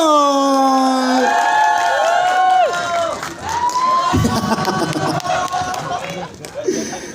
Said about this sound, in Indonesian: Tepuk tangan yang meriah untuk Fajar Setboy.